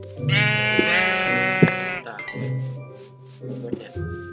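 Sheep in the Minecraft Lord of the Rings mod bleat several times, close and clear, with long wavering cries and a few shorter ones, while someone speaks briefly over them.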